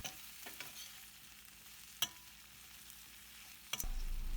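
Brinjals fried with turmeric and salt, a faint steady sizzle under occasional sharp clinks of a spoon stirring against the pan.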